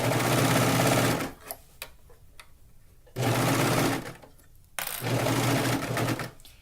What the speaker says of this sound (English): my serger's going over this seam really easily